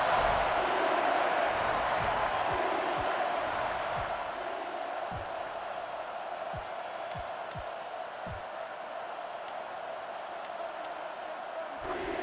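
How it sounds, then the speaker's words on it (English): Steady crowd roar from a stadium in NCAA Football 09, a sustained wash of fans cheering that fades slightly partway through, with scattered thumps and sharp clicks from on-field action. "The crowd is really letting them hear it."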